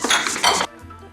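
Metal wok and utensils clattering during high-heat stir frying with sesame oil and garlic in a home kitchen, a dense burst of loud clinks and scrapes for about half a second, then cutting off to quiet.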